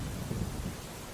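Steady rain with low rolling thunder during a storm, a dense continuous wash of rumble and hiss with no voices.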